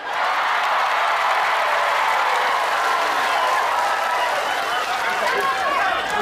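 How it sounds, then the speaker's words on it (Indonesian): A crowd applauds loudly and continuously, a dense patter of many hands clapping that holds steady throughout. "yang terakhir harus kenceng tepuk tangannya"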